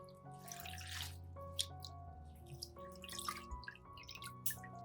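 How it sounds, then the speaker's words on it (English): Faint splashing and trickling water while fresh mint leaves are rinsed in clean water, with irregular bursts of splashing and drips over a low hum. "After that, rinse it again once or twice with clean water."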